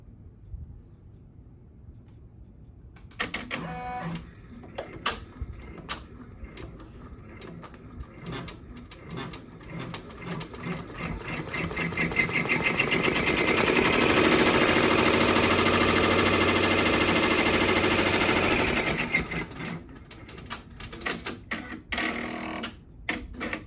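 A multi-needle embroidery machine runs a tack-down stitch while making a patch: rapid mechanical clatter starts after a quiet moment, then builds into a louder, steady whirring hum mid-run before dropping back to ticking stitches.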